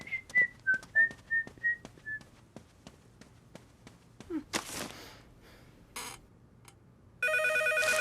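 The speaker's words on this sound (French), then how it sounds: "Téléphone." A telephone rings in a domestic comedy scene, a repeated electronic warble of several short bursts, followed by a louder continuous ring near the end, with no talk over it.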